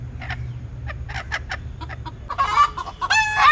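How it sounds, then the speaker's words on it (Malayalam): Native country chickens cluck in short, scattered bursts close by as they peck around outside their coop, with a louder, more insistent run of clucking near the end over a low steady hum. "അതിനകത്തുള്ള കോഴികളൊക്കെ പുറത്ത് കൊത്തിപ്പെരുക്കി നടക്കുകയാണ്"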